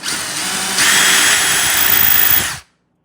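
A power drill countersinks a stainless steel brake part for a Losi Promoto motorcycle model, a loud steady whine that rises in pitch partway through, then stops abruptly.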